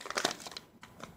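Crinkly plastic packaging of a sponsor pack being torn and crumpled open up close, a quick burst of rustling followed by a couple of softer crackles.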